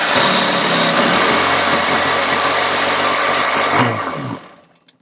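A Superjet jet ski engine fires up and runs with a loud, high-pitched, close two-stroke buzz that holds steady for several seconds, then cuts off and fades away.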